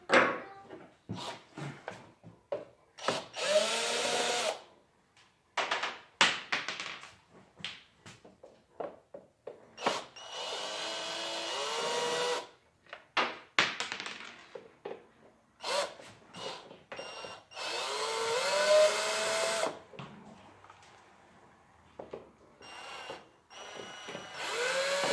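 A power tool drives out three bolts beneath the steering wheel of a 2002–2006 Acura RSX, with repeated short whirring bursts of varying length separated by quiet gaps and small handling clatter, close by with no talk.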